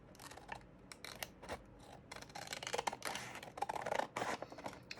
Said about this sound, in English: we're going to cut this out